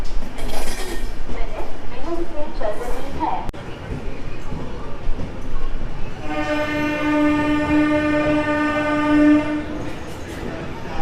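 A train's loud, sustained horn blares for about three seconds amid rumbling rail noise at a busy platform at Kharagpur Junction, India, with people talking nearby.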